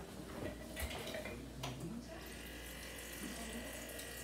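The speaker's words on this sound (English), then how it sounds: "I need to get a glass of water." A kitchen tap runs as a glass of water is filled, with a steady moderate rush of water and a few light clinks early on, in an otherwise quiet room.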